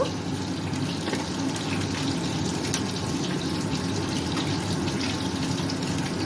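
Tap water runs steadily over raw bananas being washed in a sink, a continuous close splashing rush with no voices.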